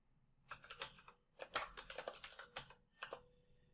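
Computer keyboard typing, quiet close key clicks in short irregular bursts with small gaps between them.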